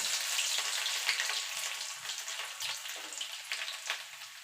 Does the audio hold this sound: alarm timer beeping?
no